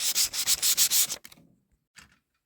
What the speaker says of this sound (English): I'm going to scratch it up with sandpaper.